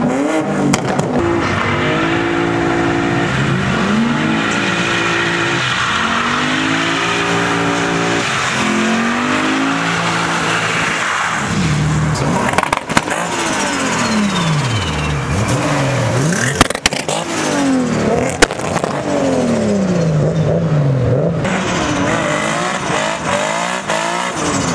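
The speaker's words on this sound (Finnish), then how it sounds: "pakoäänikisat meneillään." Cars revving hard at an outdoor exhaust sound contest, loud engine notes sweeping up and down repeatedly with sharp bursts and brief tire squeals, close and continuous over roughly twenty-five seconds with no talking.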